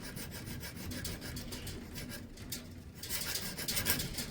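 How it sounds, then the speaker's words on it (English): Steady back-and-forth rasping of a hand file on steel, filing a small flat on a hammer before drilling, close up, with repeated even strokes. "let me file a little flat off"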